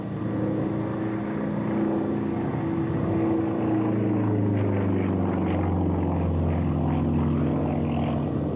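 A Yak-54 aerobatic propeller plane flies at a Russian Air Force airshow, its steady engine drone holding loud and continuous throughout with shifting pitch as it passes, accompanied by wind-like broadband noise and no voices.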